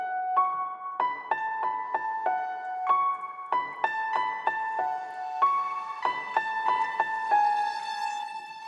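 A simple piano melody played slowly at half tempo with no accompanying chords, single clear notes struck one after another in a steady stepwise rhythm, close and clean with ringing sustain.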